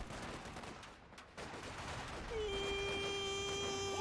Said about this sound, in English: small arms fire slowly penetrating the M3